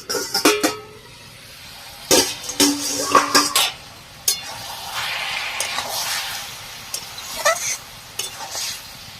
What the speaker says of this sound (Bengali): এবার এটাকে ঢাকা দিয়ে দেবো সেদ্ধ করার জন্য দিয়ে দিলাম ঢাকনা